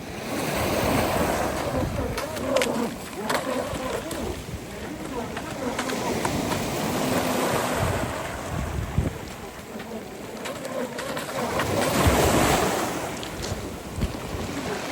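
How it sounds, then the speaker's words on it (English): Small sea waves washing onto a shore, a continuous surging wash that swells and recedes, mixed with gusty wind buffeting the microphone and a voice talking over it now and then. "beautiful sea, real nice little waves"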